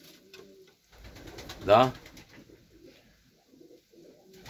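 Pigeons, Austrian-bred birds in a fancier's loft, give a clear throaty coo near the middle, with softer bird sounds around it and a voice talking quietly between.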